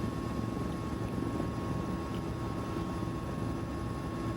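Steady, continuous low rotor and engine drone of a Mi-17 helicopter in flight in Microsoft Flight Simulator, an even unbroken rumble held at one level throughout, with no voices.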